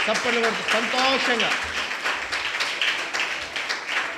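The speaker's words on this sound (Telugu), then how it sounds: "కృతజ్ఞతగా అందరూ చప్పట్లు కొడుతూ స్తోత్రం చెప్దాం" A church congregation claps together in thanksgiving praise, quick overlapping claps continuing under a voice that sings or speaks at the start.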